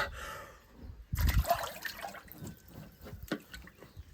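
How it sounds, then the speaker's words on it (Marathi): A person plunges into water with a sudden splash after a quiet stretch, followed by sloshing, trickling and dripping sounds close by. "आता खाली डुबकी मारतो वन टू थ्री ऍक्शन"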